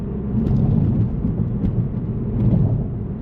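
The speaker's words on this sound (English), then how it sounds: "It's raining" Rain falling in March in the San Lorenzo Valley, a steady dense low rumbling wash without pause, fairly loud and continuous, no voices.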